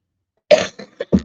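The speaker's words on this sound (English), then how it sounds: "Please forgive me for coughing." A person coughs close up after a moment of silence, one harsh burst followed by several shorter hacking coughs in an uneven rhythm, with no talking.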